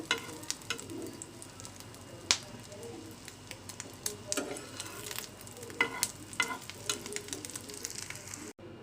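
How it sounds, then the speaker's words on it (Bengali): A native hen's egg fries in a pan with a steady, close sizzle, punctuated by scraping and stirring taps of a utensil; no talking. "তো এই তো আরেকটা ডিম ভাজা হচ্ছে"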